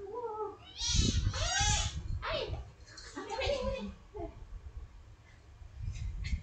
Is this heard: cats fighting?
yes